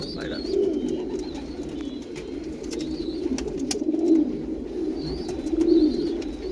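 Pigeons cooing nearby, a pair of birds giving repeated low rolling coos that swell and fade in waves, with faint higher chirps and light background noise.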